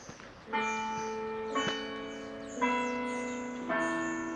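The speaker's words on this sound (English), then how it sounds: "And the noon bells are going off." Catholic church bells ring out at noon, four clear struck tones spaced about a second apart, each leaving a long ringing hum that overlaps the next, heard alone at moderate distance.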